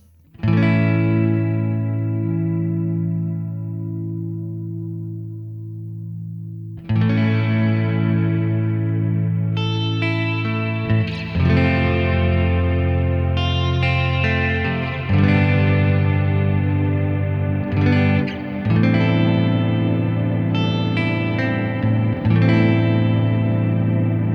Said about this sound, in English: let's go to the Neunaber Immerse Mark II. This of course has a lot of different sound modes, but we're just interested in the wet and maybe the shimmer setting